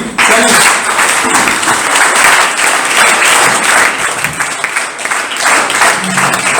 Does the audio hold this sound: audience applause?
yes